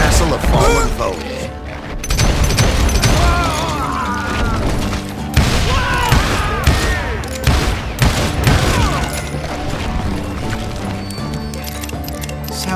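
Rapid overlapping gunfire from hired gunmen in the Western shooter Call of Juarez Gunslinger, a dense barrage of shots and mechanical clatter that stays loud throughout, with music and a voice in the mix.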